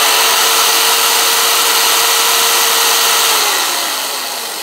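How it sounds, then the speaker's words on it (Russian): A Hyundai J-800 Expert jigsaw set to its coarse pendulum cut runs loud and steady with a high buzzing whine. It holds an even tone, then winds down near the end. "Сейчас покажу, как он пилит."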